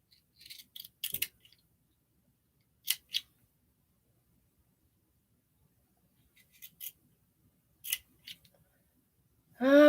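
Scissors snip fabric while trimming a seam allowance at a sewing table, a few short crisp cuts spaced apart with quiet gaps between, close and soft.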